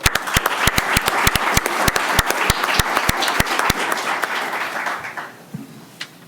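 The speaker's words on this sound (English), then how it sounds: "once again, I want to applaud Hunter for his efforts." An audience at a county commissioners meeting applauds with loud, steady clapping that thins out after about four seconds and fades to a few scattered claps.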